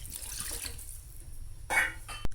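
Water poured into a pot of Portuguese duck rice, a short splashing pour near the end after quiet kitchen background, with a brief clatter at the close.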